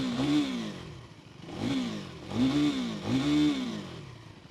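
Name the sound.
KTM Duke 390 motorcycle engine revving in track mode, exhaust note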